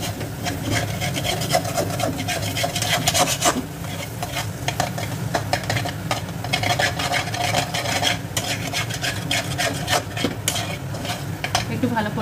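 Chana dal with a little sugar and salt is stirred in a pan, a continuous scraping and rubbing with a steady rhythm over a soft sizzle, close and fairly loud throughout.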